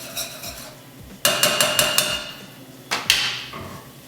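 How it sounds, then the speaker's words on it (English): A spoon clanks against a pan while chana masala is stirred, a few sharp metallic knocks in two quick bursts over a quiet background. "I'm gonna give it a stir."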